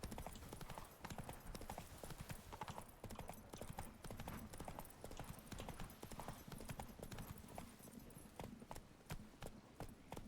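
Horse hooves clip-clopping in the video game The Witcher 3: Blood and Wine, a dense, continuous run of close hoofbeats at moderate volume with little else over it.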